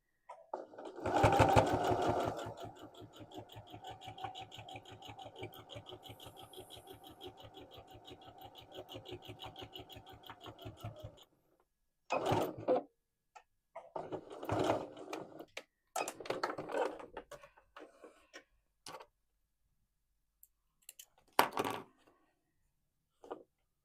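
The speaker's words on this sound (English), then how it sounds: "This end that's open and the opposite end, we're going to top stitch." A sewing machine top stitches fabric for a dog poop bag holder, running in a fast even mechanical chatter for about eleven seconds, then in several short bursts separated by pauses.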